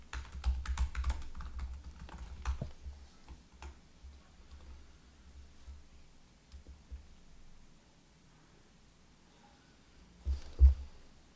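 Someone types on a computer keyboard, a burst of quick clicky keystrokes followed by sparser taps and a final cluster, close and quiet in an otherwise still room.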